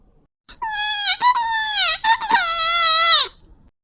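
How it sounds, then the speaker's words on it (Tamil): A cartoon baby wails in three long, loud, high-pitched crying bursts with short gasping breaks between them, close and alone, with no other sound around it. "பாப்பா அழுதுகிட்டே இருக்கா"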